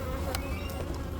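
Honeybees buzz close and steady during a beehive inspection, a continuous dense hum from many bees with no talking.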